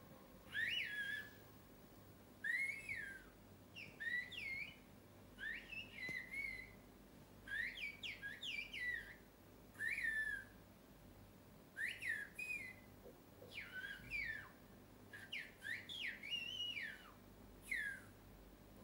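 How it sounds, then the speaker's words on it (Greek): Two women in a remote Greek village on Evia converse in a whistled language, sliding and warbling high whistled phrases that trade back and forth in short bursts with pauses, faint and carrying over open air. "Χρησιμοποιούν μια σφυριχτή γλώσσα που μόνο εκείνοι καταλαβαίνουν."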